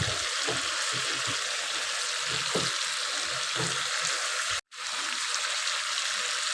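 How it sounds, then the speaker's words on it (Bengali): Chicken masala fries in oil in a pan for dak bungalow chicken, giving a steady close sizzle with soft stirring scrapes and a brief cut near the end. "এটা তেল বেরোনো পর্যন্ত আমরা এটাকে কষতে থাকবো।"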